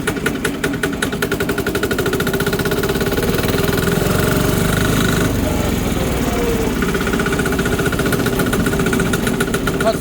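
A tractor with a China diesel engine chugs along in third gear. The loud, rapid, even knocking beat of the engine continues steadily throughout, heard close with no break.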